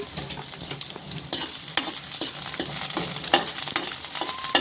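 Garlic sizzling in a hot pan for a vegetable soup, a continuous bright hiss with crackling pops and stirring scrapes, close and steady without talk.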